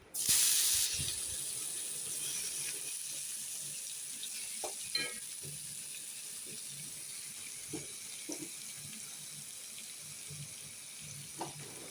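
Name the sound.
frying chicken kosha with spices in oil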